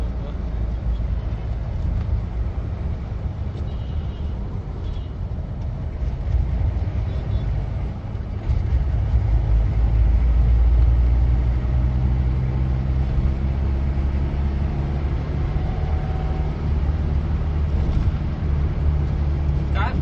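A 1977 Ambassador Mark 3 car, converted to grand, drives and overtakes, with a steady engine and road rumble that swells around the middle of the pass and then settles into a continuous cruise.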